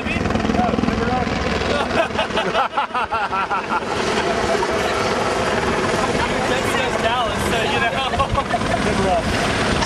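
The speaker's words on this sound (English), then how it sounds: "You got three helicopters around here." Three helicopters circling over an Americas Cup World Series sailing race in San Diego, a steady close rotor chop and engine whine throughout, with people talking over it.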